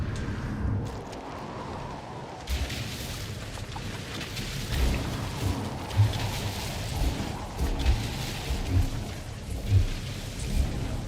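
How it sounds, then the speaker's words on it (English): A thunderstorm rolls through the No Man's Sky game world: steady rain hisses throughout, with deep thunder rumbles and several heavy booming cracks recurring every second or two. "We're getting to it and staying covered by the storm."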